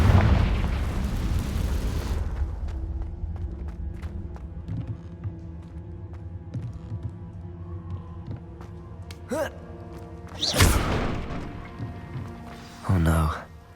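A Confringo blasting spell in Hogwarts Legacy sets off a loud rumbling explosion at the start. Two sharp, bursting blasts follow later, with a voice talking in between.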